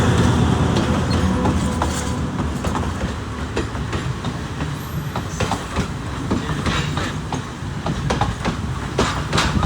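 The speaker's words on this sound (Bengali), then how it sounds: "এই তো ট্রেন আসতেছে" A train rumbles past nearby in Colombo, Sri Lanka, with rhythmic clickety-clack of wheels over rail joints, loud and continuous for the whole stretch.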